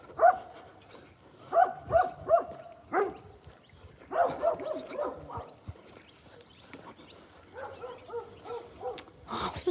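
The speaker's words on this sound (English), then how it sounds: "let's get away from those dogs" Several dogs bark outdoors on a walk, loud bursts of barks and yips in irregular clusters, some close together, with quieter whimpering and background noise between them.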